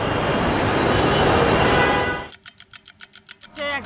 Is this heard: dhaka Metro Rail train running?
yes